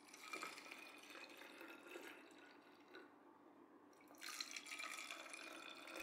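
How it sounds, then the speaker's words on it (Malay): Thick pudding mixture pours steadily into thick plastic bottles, a continuous wet trickling that pauses briefly and then resumes. "Tuang adunan pertama sama rata dalam 3 botol."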